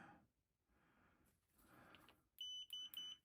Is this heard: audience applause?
no